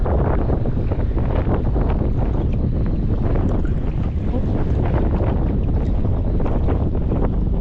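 Strong wind buffets the microphone in a loud, continuous rush while fishing, with faint water movement beneath and no talking.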